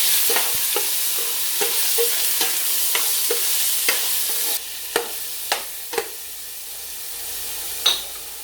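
Quarter kilo of pork stir-fried with garlic in a home-kitchen pan, a steady close sizzle broken by repeated sharp scrapes and clacks of a spatula stirring, with no one talking.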